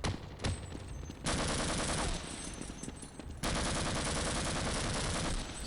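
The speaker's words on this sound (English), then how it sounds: "We will use the big gun," A big automatic gun fires in the shooter Half-Life: rapid, continuous bursts of loud, close gunfire, with a brief pause near the one-second mark and a short dip before it resumes at full intensity.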